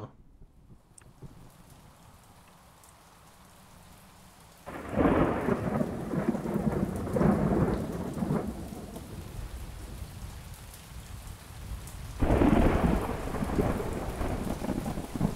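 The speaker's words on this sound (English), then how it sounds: "It's starting to rain." Thunder and rain in the video game Project Canopy: a steady patter of rain, then two loud, rumbling thunderclaps, one near the start and another toward the end.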